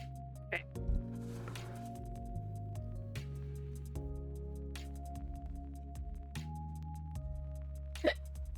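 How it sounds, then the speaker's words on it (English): Several abrupt hiccups, one near the start and a sharper one near the end, break over a steady layer of background music with no talking. "Darn hiccups today, man."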